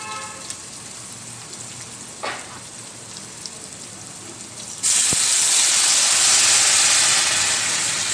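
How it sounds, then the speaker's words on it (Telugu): Water is poured into a hot pan while making vegetable vermicelli upma: after a few quiet seconds a sudden loud, sustained sizzling hiss bursts out and continues to the end, with no talk. "ఒక గ్లాసుడే నీళ్ళు పోసుకోవాలి."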